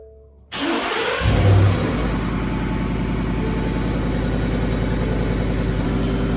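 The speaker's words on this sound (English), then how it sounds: "So let's hear this thing with the cutout closed, but the resonator is deleted." A 2020 Ford F-150 with the 5.0 Coyote V8, resonator deleted and exhaust cutout closed, starts up with a loud flare of revs, then settles into a steady, deep rumbling idle close to the exhaust.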